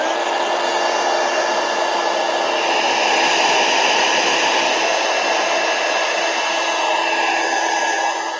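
A heat gun blows hot air over embossed paper in a craft session, giving a loud, steady, close-up whoosh that holds unchanged for the whole stretch.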